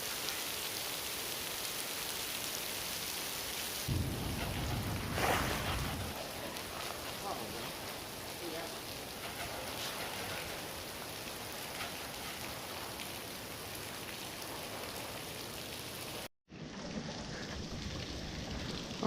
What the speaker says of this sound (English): Well, the rain's really coming down now.